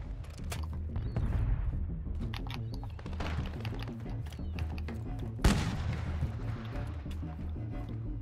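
Sniper and other gunfire in a Call of Duty match, heard as repeated sharp cracks and bursts with one louder shot midway, mixed with keyboard clatter, in-game sounds and occasional talk.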